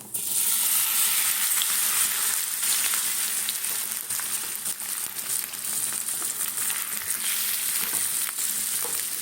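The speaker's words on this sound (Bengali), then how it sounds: "এবারে গ্যাসটাকে সিম করব, সিম করে এবার মাছটা দিয়ে দেবো।" Small mourala fish fry in a pan with black cumin and lemon over a low flame, giving a steady, dense sizzle with faint crackles, close up and unbroken by voices.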